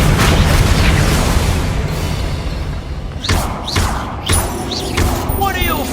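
Incendio fire spell blasts in Hogwarts Legacy: a loud, booming roar of flame, then several sharp sweeping whooshes and bursts as the fire flares and fades.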